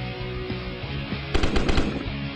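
Rifle fire in the video game Strange Rope Hero comes as a short rapid burst of loud shots, repeated in quick succession over an ongoing game soundtrack, with no talking.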